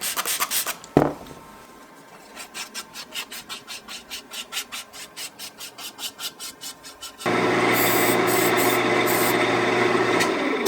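Light hand sanding with 800-grit paper on a lacquered maple live-edge bowl, a rapid run of rhythmic rasping strokes, then a loud steady whir of the lathe or machine takes over; no talking.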